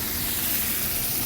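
A steam oven hisses steadily and evenly in a kitchen during clam and mussel pasta preparation, a continuous broadband rush with no talking.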